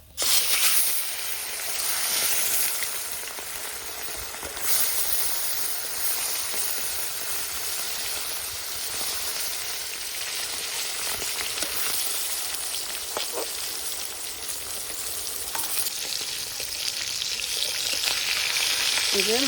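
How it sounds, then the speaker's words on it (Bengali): Small fish rubbed with salt and turmeric fry in hot mustard oil, a steady crackling sizzle that spits and hisses continuously with occasional louder pops and stirring sounds, close and fairly quiet. "এই যে তেল গরম হয়ে গেছে, এবার নুন হলুদ মাখিয়ে রাখা মাছগুলো দিয়ে দেব।"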